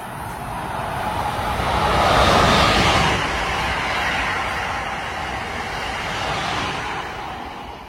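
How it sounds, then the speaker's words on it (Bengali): A broad, roaring rumble builds and swells as a train rushes past close by a platform in New York, then eases into a sustained rolling noise. "এই হচ্ছে প্ল্যাটফর্ম, আর দূর থেকে আসছে একটা ট্রেন।"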